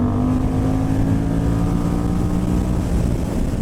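A 2018 Moto Morini Corsaro ZZ motorcycle engine drones loud and steady under throttle, a dense continuous roar with a low rumbling pitch and no voices.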